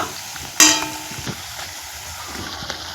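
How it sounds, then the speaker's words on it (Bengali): Sweet pumpkin chops frying in oil, a steady soft sizzle with one sharp louder burst as the chops are turned, then a continuous gentle crackle. "এই উল্টো পাল্টা করে চপগুলো আমি ভেজে নিব"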